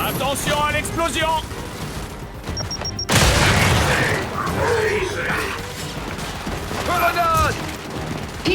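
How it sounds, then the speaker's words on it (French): An explosion in the video game Gears 5 erupts as a sudden loud, full-bodied blast partway through, then rumbles on among clanking mechanisms and bursts of gunfire, with voices nearby. "Attention à l'explosion!"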